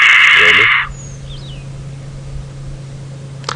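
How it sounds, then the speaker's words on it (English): White-backed vulture call played back from a phone: a loud, harsh, raspy screech lasting under a second, followed by quiet background hum and a faint click. "So that is the sound of a white-backed vulture."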